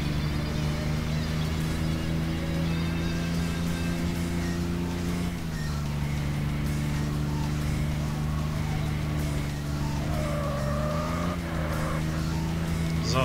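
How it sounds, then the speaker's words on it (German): A Mitsubishi racing car engine in the game Tokyo Xtreme Racer Zero drones loudly and continuously, its pitch dipping and climbing as it shifts, with faint tire squeals and a muffled voice underneath. "So, Alter, ging das Auto laut."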